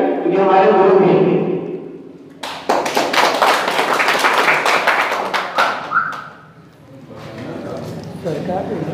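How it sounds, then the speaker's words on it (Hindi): Audience applause welcoming a guest at a small formal gathering, a burst of clapping that starts after speech and runs loud and dense for several seconds before fading, with voices around it. "खाना तिवारी से सर जोरदार ताली के साथ सर का स्वागत करते हैं।"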